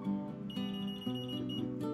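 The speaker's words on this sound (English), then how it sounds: "I gotta hit this timer off. It's gonna go off here in a second." A darkroom timer alarm going off during calotype paper iodizing, a continuous electronic beeping tone with steady pulses across the whole moment, fairly quiet and alone.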